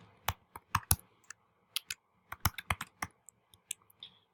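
Someone types on a computer keyboard, entering details into a registration page, with quiet, irregular clusters of crisp key clicks close by and brief pauses between bursts.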